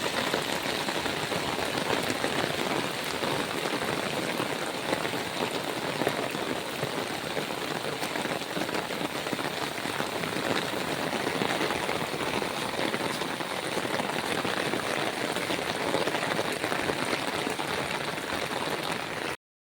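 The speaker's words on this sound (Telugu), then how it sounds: "బాగా వర్షం వస్తుంది" Heavy rain pours steadily in Hyderabad during flooding, a dense, continuous hiss of rain on surfaces that holds loud and even throughout, with no voices.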